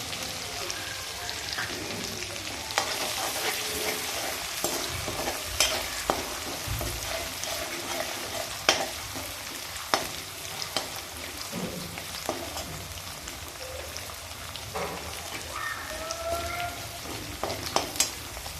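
Garlic and green chili paste with chopped garlic sautéing in a pan for a village-style kardai bhaji, a soft continuous sizzle broken by scattered crackles and the scrape of stirring, fairly quiet, with no voices.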